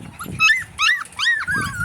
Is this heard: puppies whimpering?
yes